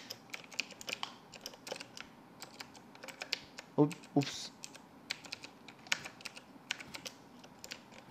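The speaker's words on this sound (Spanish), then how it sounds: "como ustedes ya notaron, el sonido de mi teclado pues no es normal" Rapid typing on a Razer BlackWidow Ultimate mechanical keyboard during a Minecraft Skywars session, a continuous stream of sharp close clicks with a brief spoken exclamation midway.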